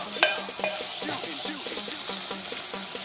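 Veg pulao stirred in a hot pan as salt goes in, a steady close sizzle of frying with repeated scraping strokes of a spoon and a couple of sharp metallic clinks near the start.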